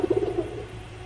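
Pigeon cooing close by, a quick run of soft, throaty pulses in the first half second that then fades.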